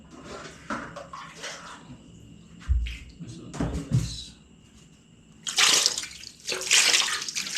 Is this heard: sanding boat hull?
no